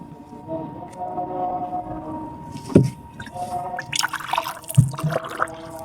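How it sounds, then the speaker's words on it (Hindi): Water poured into homemade potato peel fertilizer, soft gurgling and sloshing pours close by with a couple of distinct splashy bursts. "अब हम इसमें डालेंगे पानी।"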